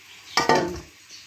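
Raw potato pieces go into a cooking pot for a home-style aloo dish, landing as two quick clattering thuds close together that ring briefly against the metal.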